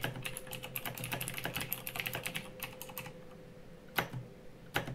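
Typing on a Razer BlackWidow mechanical keyboard gives rapid, clicky keystrokes in a dense run, then slows to a few isolated heavier presses, close-up with a low steady hum beneath.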